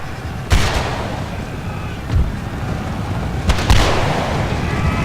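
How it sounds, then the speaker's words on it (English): Gunfire booms out in an Empire Total War battle with the Blue and Gray mod: three or four heavy volleys a second or so apart over a constant windy rush, with no talk. "They're shooting."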